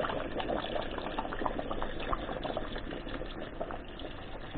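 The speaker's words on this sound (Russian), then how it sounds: "Заливаем водичку и пускай бурлит," Water bubbling steadily as it heats in a kettle on a construction-site cooking setup, a close, continuous seething roil with small pops and gurgles throughout, no voices.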